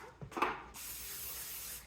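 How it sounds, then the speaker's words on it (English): A short spray hiss from an aerosol can of cooking spray onto baking pans, preceded by a few light clicks and rattles, close and fairly quiet. "I'm going to start out by spraying these pans"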